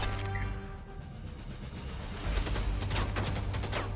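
Rapid bursts of gunfire in Helldivers 2 rattle continuously against heavy armor with metallic impacts and crashes, a dense, busy barrage throughout.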